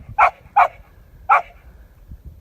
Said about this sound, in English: Loud dog.